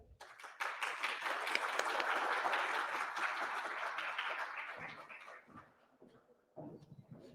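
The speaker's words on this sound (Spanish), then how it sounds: "Demos un gran aplauso a nuestra expositora en este día." An audience applauds a guest speaker at a tax seminar, a full round of many hands that swells, holds steady for several seconds, then thins out into a few scattered claps and room noise.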